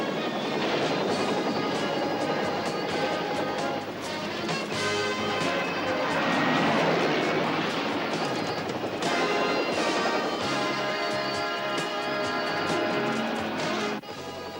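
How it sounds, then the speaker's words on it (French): Helicopter in flight, heard as a loud continuous rotor and engine roar that swells and holds steady throughout, with a dense mix of other action noise layered on top. "bénissez cet hélicoptère et surtout ses pistons"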